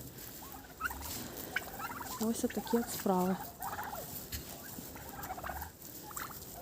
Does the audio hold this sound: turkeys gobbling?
yes